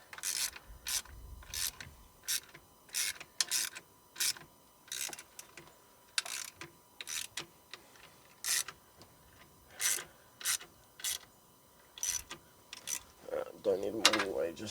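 A part being screwed into place by hand, heard as a steady run of short, evenly spaced ratcheting and rubbing strokes close by, with a brief spoken comment at the very end.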